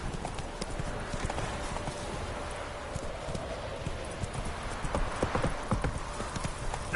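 Hoofbeats of Roach, a horse in a video game, clip-clop steadily at a gallop, close and moderately loud, with a brief whinny-like texture mixed in and a faint voice in the background.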